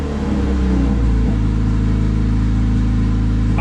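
A turbocharged Honda D16Y8 engine idles up close with a steady, slightly high mechanical hum, its pitch settling lower after about a second.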